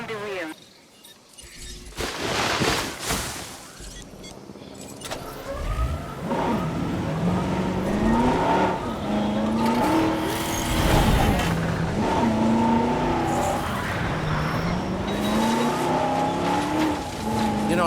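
A car driven in a Jurassic Park video game, its engine droning steadily and rising and falling in pitch as it accelerates and shifts, with brief tire noise near the start.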